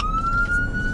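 A police siren on a Dodge Durango Pursuit car wails loud and close, one rising electronic tone held steadily over a low engine rumble.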